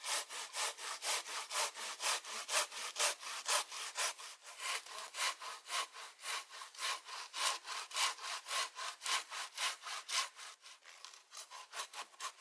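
Rhythmic back-and-forth strokes of a hand saw cutting through a log, steady and close, with regular rasping pulses throughout and no talk.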